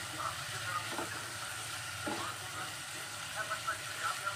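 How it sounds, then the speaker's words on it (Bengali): Mixed vegetables frying in butter in a pan, a faint, steady sizzle with a few soft stirring scrapes, quiet and close. "এখানে আমি এখন সমস্ত সবজিগুলোকে ভেজে নিচ্ছি বাটারে"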